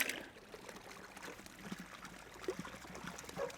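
Water splashes and trickles as buckets of barbel, chub, roach and bream are tipped into a river, faint uneven pouring and gurgling with small bursts, no voices.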